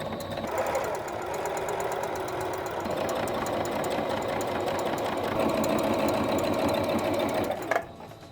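A sewing machine runs steadily for several seconds, stitching extra reinforcement on a child's soft toy where the ears attach, a continuous close mechanical whir that cuts off near the end.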